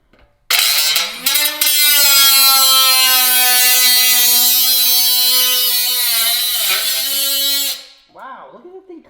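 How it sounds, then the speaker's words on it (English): A RIDGID sub-compact 18V saw cuts through a metal bumper, a loud steady high-pitched whine with a rough buzzing edge that holds for about seven seconds before winding down, with brief talk at the very end. "Let's cut some metal."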